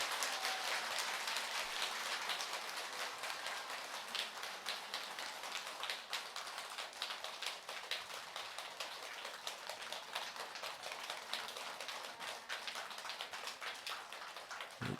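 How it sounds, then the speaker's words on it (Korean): A temple assembly applauding after a Dharma talk by a monk at a Buddhist service: a long, steady crowd of clapping hands, fairly distant and soft, continuing evenly for about fifteen seconds with no speech over it. "오늘 좋은 법문을 해주신 우설 덕문스님께 다시 한번 큰 박수 부탁드리겠습니다"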